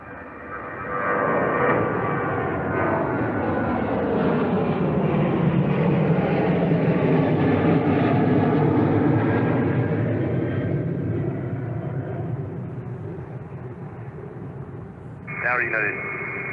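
Jet engines roar from a Scandinavian A330 and a United B767 arriving on runway 22L at an airport. The sustained, broad rumble swells and slowly fades as the aircraft passes, with a brief radio-like chirp near the end.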